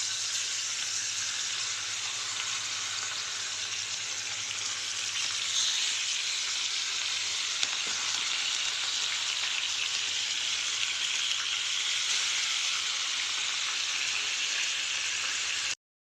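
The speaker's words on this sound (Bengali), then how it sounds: "তেল চাপিয়ে দিয়েছি তেলটা গরম হয়ে গেছে তো এখন একটা একটা করে দিয়ে ভেজে নেব" Marinated fish frying in hot oil in a home kitchen gives a steady, close sizzle and crackle that runs evenly throughout, with no talking.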